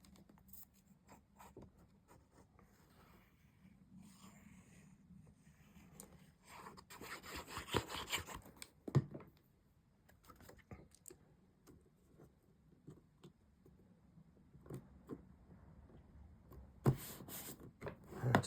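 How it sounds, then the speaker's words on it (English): Teflon tool burnishing paper down on a box album, soft close rubbing and scraping strokes in quiet bursts, with occasional taps and handling noises between passes. "I'll just take my Teflon tool so I can burnish it all down."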